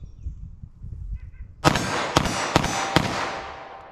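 An M&P 380 pistol fires +P .380 ACP rounds at a range, four sharp close gunshots about half a second apart, each ringing out briefly after a quiet moment.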